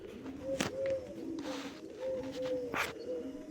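A pigeon coos in a repeated soft, low rhythm, several calls close by, with a few sharper bird sounds between the coos.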